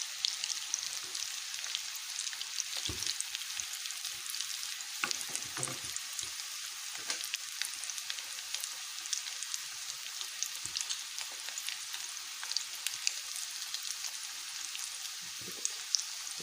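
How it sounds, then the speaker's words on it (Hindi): Rice koftas fry gently in oil over low heat, giving a steady, soft, close sizzle with fine crackling pops that continues evenly throughout. "बिल्कुल हल्की आंच में फ्राई करें,"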